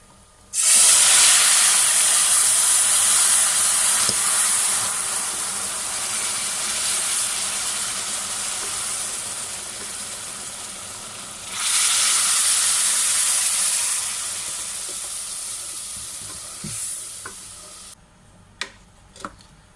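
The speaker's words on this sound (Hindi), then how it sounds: "अब इसमें हम दूध डालेंगे।" Milk poured into a pan of hot semolina halwa makes a loud, steady sizzle and hiss that lasts many seconds, surges again midway and then cuts off, followed by a few faint knocks.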